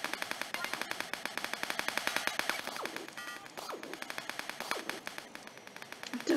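Rapid automatic gunfire from a weapon in the browser game Wings.io, a long rattling burst of evenly spaced shots that fades a little in the middle and then keeps firing steadily.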